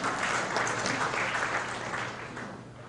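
An audience at a commemorative lecture for the 10.4 Declaration anniversary breaks into steady applause. The dense clapping runs for a few seconds and fades slightly toward the end, with a faint voice underneath.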